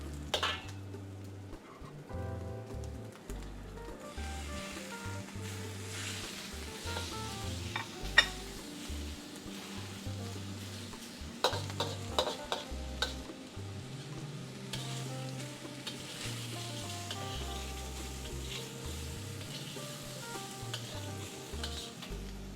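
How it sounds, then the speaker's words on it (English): Dried shrimp and toasted belacan fry in hot oil for nyonya-style fried rice, a steady sizzle broken by occasional scrapes of stirring, heard fairly quietly beneath background music. "Fry it maybe for 1 minute."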